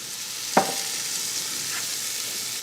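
Onions fry in a little oil in a pan, giving a steady, close sizzle with one brief clink near the start. No one speaks.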